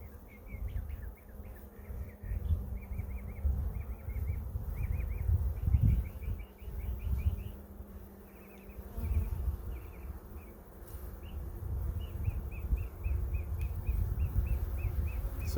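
Honey bees buzzing around an opened hive during an inspection, a continuous close drone with a rough, fluctuating hum beneath, while birds chirp repeatedly in the background.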